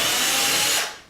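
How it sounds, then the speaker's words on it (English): A power drill bores through a piece of wood furniture with a loud, steady whine. The noise holds constant for most of the second and then winds down as the bit finishes. "and then go ahead and drill through"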